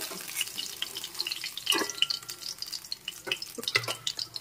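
Fried fish being lifted out of sizzling oil in a pan, a crackling sizzle with scattered clinks and scrapes of the utensil, close and fairly quiet.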